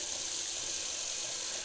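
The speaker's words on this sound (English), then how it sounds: "let me do a cold water rinser. As cold as my tap water will get." Cold tap water runs steadily from a faucet into a sink for a shaving rinse, a close, continuous, even rushing stream.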